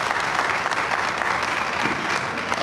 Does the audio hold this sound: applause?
yes